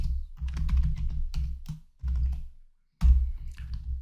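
Typing on a computer keyboard while writing C code, rapid clustered key clicks in bursts with short pauses between, close and clear with no talking.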